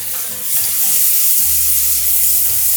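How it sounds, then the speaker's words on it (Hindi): Tomatoes and coriander frying and being stirred in a pan for a chicken curry, a steady close sizzle with a low hiss throughout and occasional stirring scrapes, no voices. "अभी सिर्फ भुनाई करनी है"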